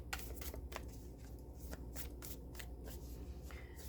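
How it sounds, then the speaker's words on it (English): A deck of tarot cards being shuffled close by, a steady run of crisp riffling flutters and soft slaps repeating every half second or so for several seconds, with no talk. "we're gonna go back, do one more shuffle, and draw the card"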